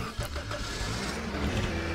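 A car engine cranks and starts in Roblox Lumber Tycoon 2, followed by a steady close idle hum over about two seconds.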